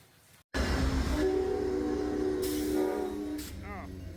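A train at a station rumbles loudly and steadily after a sudden onset, with hissing air bursts and a brief tonal squeal near the end, close by and continuous.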